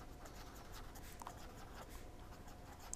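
Handwriting in a mathematics class on probability: faint, continuous scratching of pen strokes close by over a steady background hiss, with no talking.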